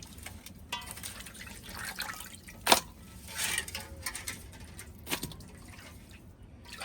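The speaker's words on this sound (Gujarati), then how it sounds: "સૌથી પહેલાં આને આપણે એક પાણીએ ધોઈ નાખવાના છે" Water sloshes and drips as small prawns are rinsed, with a few sharp splashes and clinks standing out against a quiet background.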